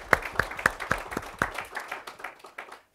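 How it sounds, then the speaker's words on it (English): A small audience at a Day of Data opening gathering gives Michelle Hudson a short round of applause: a handful of distinct claps that quickly thin out and fade over a few seconds. "Michelle actually deserves a hand of applause."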